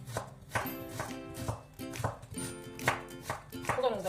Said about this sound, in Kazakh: Картопты да көбік қылып тураймыз.